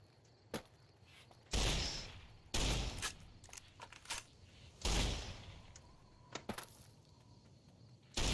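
Shotgun fire in the video game Fallout New Vegas, several sharp loud blasts in irregular succession with shorter clicks and thuds between them, no talk.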